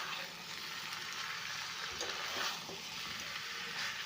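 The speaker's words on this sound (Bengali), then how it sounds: "খুব ভালোভাবে কষে নিয়েছি মশলাটা।" Spice masala sizzling and frying with meat in a hot pan, a steady close crackle with occasional stirring scrapes, no voices.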